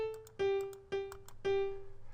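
A short top-voice melody from a chord progression, three or four clear sustained tones stepping along, each struck note decaying smoothly, close and soft with no talk.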